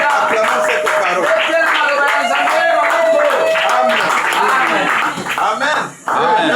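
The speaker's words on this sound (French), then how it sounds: "Acclamons cette parole" Church congregation applauding during a Sunday service at a church in Oyo, with steady, dense clapping that carries on loud and close, mixed with voices and singing throughout.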